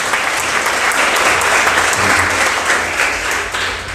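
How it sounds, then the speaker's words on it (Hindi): Church congregation applauding during a Hindi sermon: loud, close, sustained clapping from many hands that tapers slightly at the end, with no voices over it. "एक अच्छी ताली प्रभु के जोर से।"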